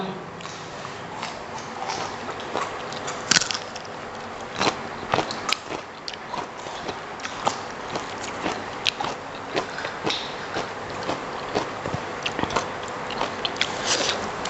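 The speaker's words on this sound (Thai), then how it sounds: "กัดกระเทียมคำ" Someone bites into raw garlic cloves while eating. Sharp, crunchy bites and crackling chews repeat irregularly and close up, with faint voices in the background.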